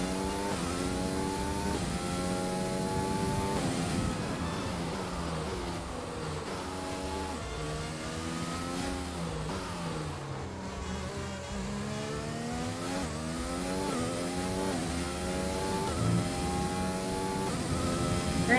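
A race car engine in a video game at Silverstone, revving and accelerating continuously with repeated rising pitch sweeps as it shifts through gears, loud and close for the whole stretch with no talk.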